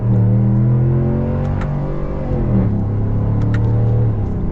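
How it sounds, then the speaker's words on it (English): A 2022 Ram 1500 Rebel GT pickup with its Hemi V8 revs close by, a deep rumbling engine note that swells and drops in pitch, steady and loud with no talk. "Gotta love that Hemi grunt."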